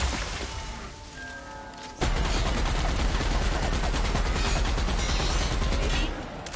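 Sustained rapid gunfire roars in a battle in the video game The Outer Worlds, starting after a quieter stretch and running loud and dense for several seconds before easing off.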